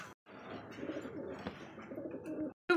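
Pigeons coo in soft, low, throaty murmurs, repeating steadily and close by, ending with a brief sharper sound.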